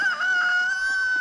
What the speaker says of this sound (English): I know, Mr. Rooster.